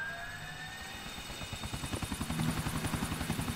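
A helicopter in GTA 4 spins up, its rotor chop quickening into a steady, rhythmic thumping under a whining turbine tone that grows louder toward the end.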